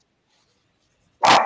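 A single loud, close dog bark bursts out suddenly after near silence.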